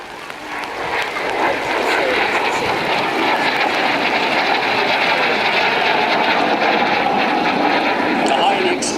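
A light propeller aircraft at an airshow roars past while waggling its wings, a steady broad engine drone lasting several seconds, heard under loud announcer talk over a public address.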